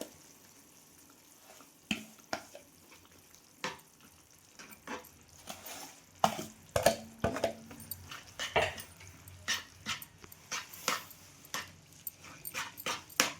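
Semolina for upma is stirred in a pan over low heat, giving irregular scraping and clinking strokes with soft sizzling between them, close and fairly quiet.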